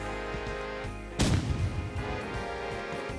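Grenade launch in the video game Rivals: a single sharp, loud explosive burst with a quick decaying rumble, set against steady background game audio.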